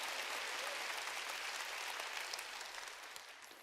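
A church congregation applauds together, a dense, sustained wash of clapping that stays even and then tapers slightly toward the end.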